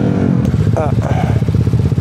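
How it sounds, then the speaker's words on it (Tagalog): A noisy, rough-running motorcycle engine idles loudly and up close with a rapid pulsing throb and mechanical clatter, while people talk over it. "Grabe, bulabog tong motor na to."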